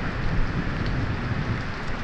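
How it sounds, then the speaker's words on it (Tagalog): Heavy typhoon rain in San Pablo City, Laguna, pouring as a dense, steady roar with no break, loud and close, alone without any voices. "Sana po ganito lang kalakas yung maging bagyo."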